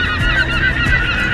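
Loud, continuous honking calls from a goose-like bird close by near the Statue of Liberty in New York, repeating in quick succession without pause.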